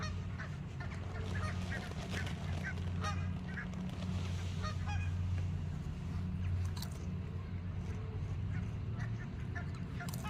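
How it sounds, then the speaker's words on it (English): Geese honk repeatedly and close by at an outdoor fishing spot, a steady, busy flock chorus running through the whole stretch with no talk over it. "Would have been better without all the geese"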